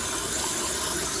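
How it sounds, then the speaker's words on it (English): Household toilet flushing after a fill valve and supply line replacement, a loud, steady rush of water at close range for about a second. "Give your toilet a flush."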